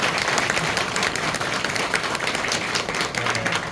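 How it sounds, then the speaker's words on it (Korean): A church congregation applauds to welcome a newly installed senior pastor, a dense, steady wash of clapping from many hands filling the room throughout, with little else audible. "돌아서서 인사할 때 박수로 환영해 주시기 바랍니다."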